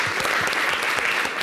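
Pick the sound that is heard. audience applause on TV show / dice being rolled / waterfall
audience applause on TV show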